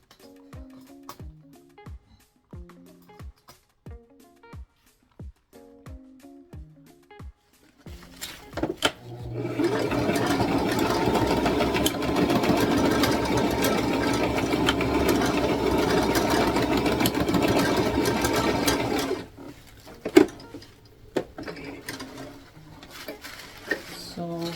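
A domestic sewing machine runs a zigzag stitch on tutu fabric for a Barbie outfit, a steady loud whirring motor for about ten seconds after some light handling clicks, then stopping into quieter tapping.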